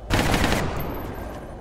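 Burst of rapid automatic gunfire in XCOM: Enemy Within with the Long War mod, a sharp loud volley that starts abruptly and then trails off into a fading rumbling echo.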